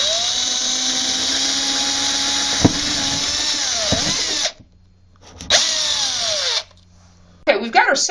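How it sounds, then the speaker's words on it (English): A loud power drill whines steadily as it bores through a wooden door, pausing briefly, then revving again before stopping with a few clunks. "I'm going to drill through the door in its entirety"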